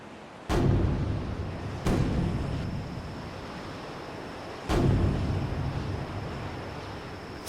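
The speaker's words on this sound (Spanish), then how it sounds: "Son 3 cañonazos." Three heavy cannon shots boom out one after another, widely spaced, each a sharp blast trailing off into a rumble over a steady background of surf and wind.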